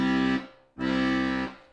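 An accordion plays two sustained chords of the plain Twinkle Twinkle progression without the chord substitution, each swelling loud and fading, separated by a brief gap.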